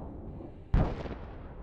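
A stockpile of munitions blows up after a kamikaze drone strike: one sudden, heavy distant boom breaks through a low steady rumble and fades into a long rolling tail.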